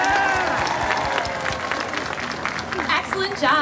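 Audience at a sea lion and harbor seal show at Hershey Park, Pennsylvania, clapping steadily throughout, a sustained crowd applause with a voice audible over it.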